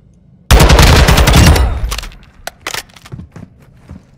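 A loud burst of rapid automatic gunfire in the shooter game Call of Duty: Modern Warfare II, lasting about a second, followed by a few scattered shots and clatter as it dies away.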